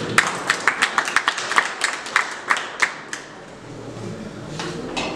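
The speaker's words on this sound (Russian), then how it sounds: "Ваши аплодисменты." Steady, rhythmic clapping from a small crowd at a boxing award ceremony: about a dozen crisp, evenly spaced claps over three seconds, then fading into quieter room noise.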